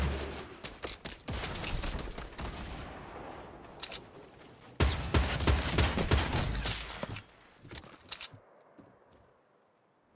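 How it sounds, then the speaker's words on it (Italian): Rapid bursts of gunfire from a Fortnite match, loud and dense, with a roaring stretch of shots in the opening seconds and another heavy volley midway, then tapering off; no one speaks. "Pure mi ha sparato con un cecchino."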